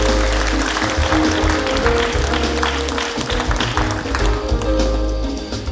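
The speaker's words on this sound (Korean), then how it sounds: "여러분 큰 박수로 환영해 주시기 바랍니다" An audience at a regional forum in Bonghwa breaks into sustained applause welcoming an introduced guest, dense clapping filling the hall at close range for several seconds with no voices over it.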